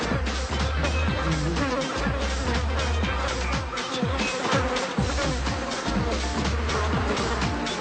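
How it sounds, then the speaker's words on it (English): A swarm of bees pours off a hive after being smoked, making a dense, continuous buzzing drone that stays steady and loud throughout, with a low rumble beneath. "It's like a cloud of bees flying off."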